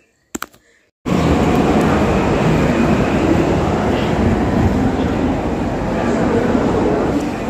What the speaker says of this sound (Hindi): अभी हम लोग मेट्रो से निकल गए, मतलब मेट्रो स्टेशन पहुँच गए